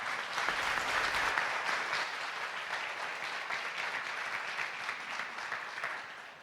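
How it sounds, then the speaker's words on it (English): An audience applauds at a Leadership Paducah 35th anniversary celebration, a dense, steady wash of many hands clapping that holds for several seconds and slowly fades toward the end, with no talking over it. "Everybody, let's give a round of applause for Mr. Steve Pallas"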